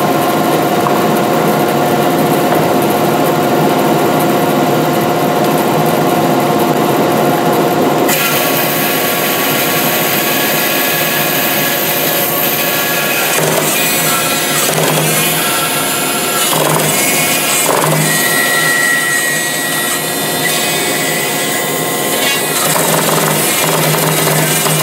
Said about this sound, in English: So let's go back to the bandsaw.